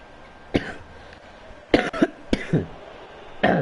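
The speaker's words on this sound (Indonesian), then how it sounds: "Batuk-batuk" Several dry coughs in short bursts, a single hack then a tight cluster of two and two more, with a final cough at the end, close and fairly loud over a quiet background hum.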